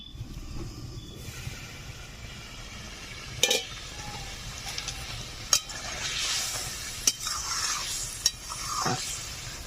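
Gram flour fritter curry (besan bora jhal) simmers uncovered in a pan in a Bengali village kitchen, giving a soft steady sizzle. A few sharp utensil scrapes and clinks break through as it is stirred.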